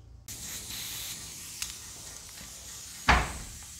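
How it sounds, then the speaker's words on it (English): A workshop door blows open with a sudden loud bang after a stretch of steady background hiss and faint rustling. "The door just blew open."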